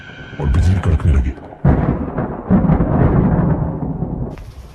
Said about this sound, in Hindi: तभी अचानक बाहर तेज बारिश शुरू हो गई और बिजली कड़कने लगी।